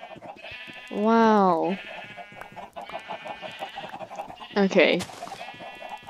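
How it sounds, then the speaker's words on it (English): Minecraft farm animals, sheep, llamas and chickens, call out in a game world: a loud bleat early on and another mixed animal cry later, over a busy background of clucks, while a person speaks briefly. "Our llamas and sheep and chickens."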